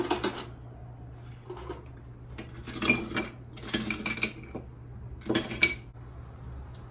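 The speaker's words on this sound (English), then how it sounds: "And then we're just gonna add some ice and give it a little stir." A spoon stirs a caipirinha made with Novo Fogo cachaça over ice. Scattered bursts of close, bright clinking and rattling sound against the glass, with quiet pauses between them.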